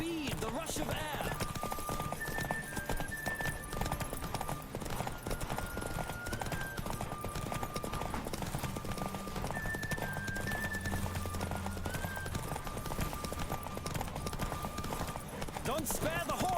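Horse hooves gallop steadily in The Witcher 3, a continuous rapid clip-clop under game music and a speaking voice throughout.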